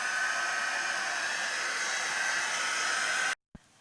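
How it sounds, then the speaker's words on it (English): A hair dryer runs steadily at close range, drying a recycled junk journal page, a constant loud whooshing hum that cuts off abruptly near the end, followed by a brief click. "So what I will do is I'm gonna gently dry that."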